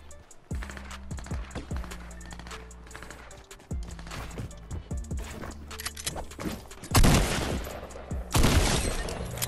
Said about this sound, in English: Somebody getting shot right there.